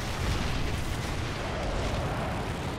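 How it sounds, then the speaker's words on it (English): Loud, dense explosive rumble from a rocket blast in the Call of Duty: Ghosts campaign, a sustained roaring boom with heavy low end filling the scene, with no voices over it. "Oh, that's a rocket."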